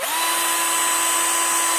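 An Ozito 18V drill-driver runs at speed setting 2, spinning up quickly into a loud, steady, high motor whine that holds without change, with no voices.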